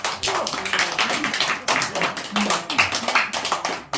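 A small group claps in short uneven bursts during a talk on healing, the hand claps sharp and close, interleaved with brief voices and pauses.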